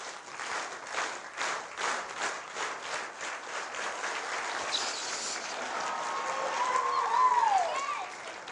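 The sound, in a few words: audience clapping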